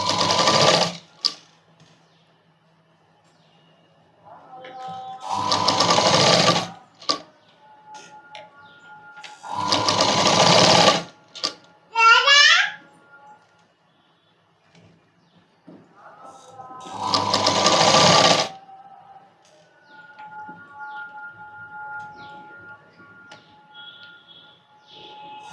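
A sewing machine stitches a child's night dress in four loud bursts of a few seconds each, separated by quiet pauses with light handling sounds.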